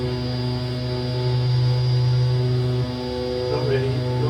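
A simulated DHC-6 Twin Otter turboprop engine runs in X-Plane 11, a steady whining drone with strong sustained tones that stays level throughout, with a slight shift near the end.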